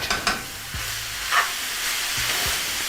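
Garlic frying in a pan alongside juicy cooked beef for a cheese wrap, giving a steady sizzle with a few scraping stirs and light taps, close and alone without any talk.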